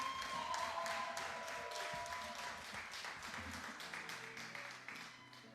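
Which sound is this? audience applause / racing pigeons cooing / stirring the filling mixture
audience applause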